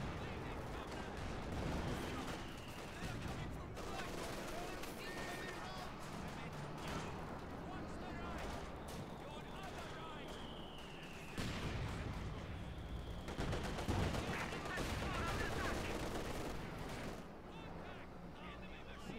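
Tank and infantry battle in a WWII tank video game, with tracer gunfire raking infantry: a steady din of shots, bursts and engine rumble, and a voice talking over the fighting throughout.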